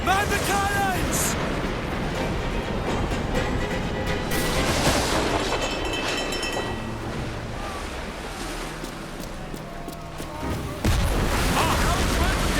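Cannon fire booms out in a naval battle in Assassin's Creed Black Flag, a few heavy blasts breaking through steady crashing waves, wind and ship noise amid the chaotic din of combat.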